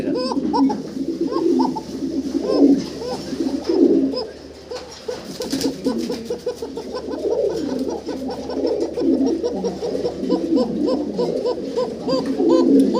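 Fancy pigeons kept for sale coo steadily, many soft overlapping rhythmic coos up close, with a brief sharp clatter partway through and little or no talking.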